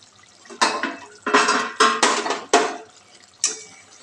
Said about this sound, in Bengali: এবার ঢাকাটা খুলবো